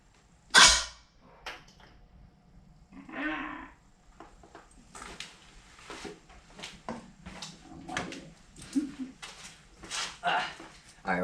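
Homemade air cannon fired at about 48 PSI with a stopper in place: one sharp, loud pop near the start, followed by people talking and reacting.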